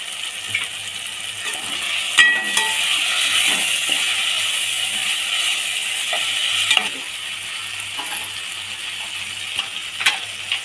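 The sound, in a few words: crushed ginger and garlic sautéing in a pan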